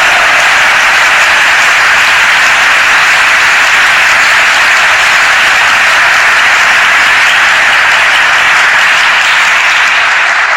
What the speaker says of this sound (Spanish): ¿Quiere darle un aplauso al Señor esta mañana?